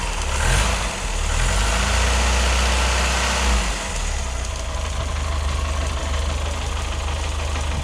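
A Ford CVH car engine idling with the choke on, a steady close drone that runs a little rough and uneven, with a brief throttle blip near the start.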